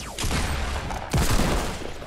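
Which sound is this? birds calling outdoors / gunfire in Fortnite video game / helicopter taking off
gunfire in Fortnite video game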